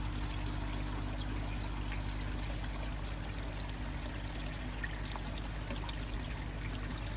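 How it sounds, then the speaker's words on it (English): Koi pond filter system running with a steady, continuous rush of flowing and trickling water, an even wash of sound with no breaks throughout. "Filter system's working fine."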